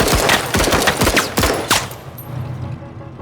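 Rapid bursts of gunfire from the MENACE video game, a dense string of sharp close shots for about two seconds, then tapering into a fading tail and low rumble.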